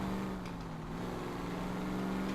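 A car engine in the video game L.A. Noire hums at a steady low idle with slight revving shifts, continuous and fairly quiet.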